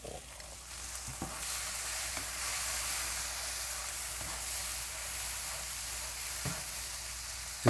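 Eggs scrambled with cheese fry in a pan, giving a steady close sizzle and hiss with a few soft stirring scrapes and clicks throughout.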